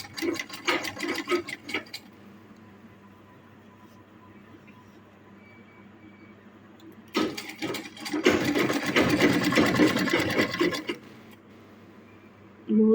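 A sewing machine stitching a top runs in two bursts, a short run at the start and a longer steady whirring run later, with quiet pauses between.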